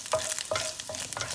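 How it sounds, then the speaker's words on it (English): Meat fries in oil in a pan, a crackling sizzle broken by several rhythmic stirring scrapes, fairly quiet and close. "Got a nice bit of caramelisation happening to the meat because it's frying in the oil."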